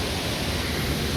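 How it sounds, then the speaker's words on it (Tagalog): Waterfall at Ingleton Falls in North Yorkshire, a close, loud and constant rush of falling water filling the whole moment with no other sounds. "waterfalls."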